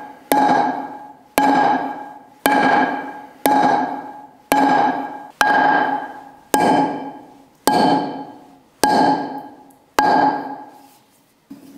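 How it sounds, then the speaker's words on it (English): A bush hammer strikes a marble stone surface in a steady series of about ten sharp, ringing impacts, each decaying before the next blow, loud and close with no speech. "you would hold it with two hands and perpendicular to the surface of the stone, and then you go up and down with it"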